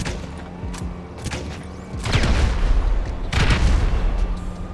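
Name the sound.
compact grenade launcher firing grenades in video game GTA Online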